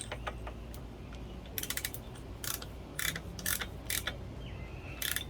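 A socket wrench tightens a spark plug on a Suzuki TS125 motorcycle, giving short, quiet bursts of ratcheting clicks separated by pauses over a low background hum, close but faint.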